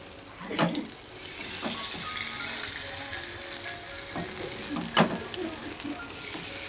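Fish frying in a pan with a steady sizzle and crackle throughout, a few sharp pops and clinks rising over it at moderate loudness.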